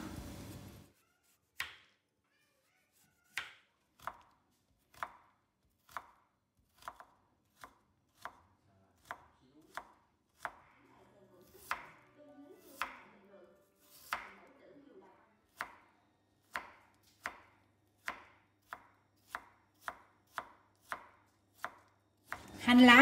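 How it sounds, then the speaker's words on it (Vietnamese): A knife dicing carrot and jicama into small cubes on a cutting board, with sharp, crisp chops coming in uneven bursts, sometimes slow and spaced, sometimes quicker, close and clear with no talk. "Cà rốt và củ sắn em sẽ xắt hạt lựu nhỏ."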